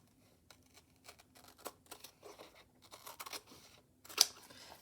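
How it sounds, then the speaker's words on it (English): Fiskars self-opening scissors snipping upholstery fabric, a quiet series of short crisp cuts and rustles, irregular at first and then closer together, ending with a sharper click. "Grab my most favorite scissors of all. These are Fiskars, and they're the kind that they open automatically."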